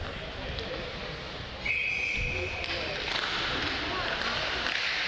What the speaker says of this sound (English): It'll be another whistle on the play.